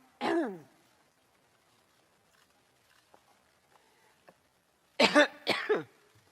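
Two bouts of coughing, one short burst at the start and a louder double cough near the end, with near silence between.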